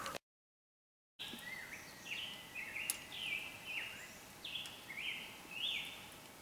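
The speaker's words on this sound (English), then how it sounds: "I'm hearing a bird just singing like crazy." A bird sings repeatedly outdoors, bright chirping phrases recurring every second or so over faint background hiss, with nobody talking.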